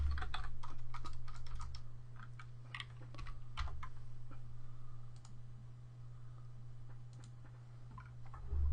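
Rapid, irregular clicking of keys on a computer keyboard, close and fairly quiet, with a steady low electrical hum underneath and no talking.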